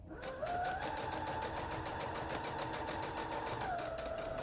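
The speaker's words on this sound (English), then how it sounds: "So when I sew these, I want to sew as close to this edge, the raw edge, as I can get." A sewing machine stitching along the raw fabric edge of a cinch bag, running in a fast steady whir that speeds up, holds, then slows near the end, close and alone.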